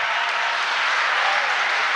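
An audience at a college poetry gathering, a Hindi kavi sammelan, breaks into dense, steady applause, a loud continuous wash of many hands clapping together for the full two seconds with no voices over it.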